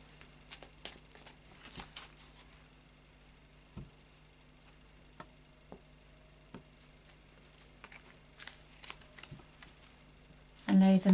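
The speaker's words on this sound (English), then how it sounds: "we'll do a final shuffle of the Light Seers Tarot now." Light Seers tarot cards shuffled by hand in soft, quick riffling bursts and scattered card taps, fairly close and quiet, with a low steady hum underneath and a louder handling sound at the very end.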